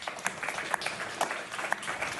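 Scattered applause from a panel audience at an Arctic security forum, a few light claps popping out over a steady room murmur, fairly faint and brief.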